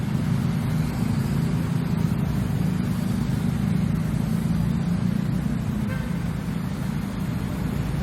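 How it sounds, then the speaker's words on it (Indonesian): Steady, dense traffic roar at a busy four-way intersection with traffic lights on Jalan R Sukamto in Palembang at night, a constant rumble of cars and engines with wind noise and no clear pauses. "Kondisi jalan saya ini cukup ramai lalu lintas"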